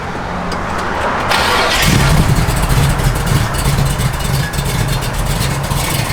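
A 1967 Chevrolet Camaro RS/SS cranks over and fires, then settles into a loud, rumbling, lumpy idle with brief revs, recorded close to the car.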